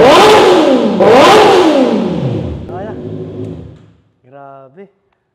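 Honda CB650R motorcycle with a cut-delete aftermarket exhaust revving hard twice, loud rising and falling engine roars that fade out, followed by a short burst of speech.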